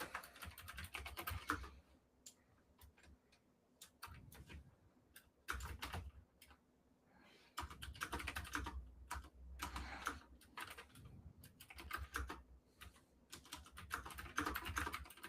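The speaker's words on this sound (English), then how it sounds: "I'm just gonna type in the comments right here" Comments are typed on a computer keyboard in quick, uneven bursts of soft clicking keystrokes with short pauses between, close but quiet and without speech.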